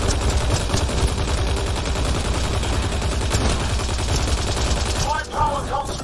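Continuous automatic gunfire in Mass Effect Andromeda, a dense, loud rattle of shots with combat noise throughout and a voice briefly audible near the end.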